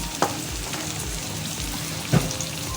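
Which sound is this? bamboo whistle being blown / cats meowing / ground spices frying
ground spices frying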